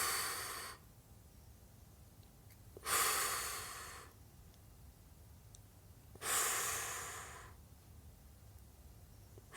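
Three long, airy breaths during a calm breathing exercise, each a soft rushing exhale lasting about a second that fades out, separated by quiet pauses, close to the microphone with no talking.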